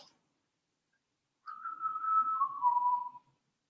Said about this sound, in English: It's important to whistle whilst plugins do that.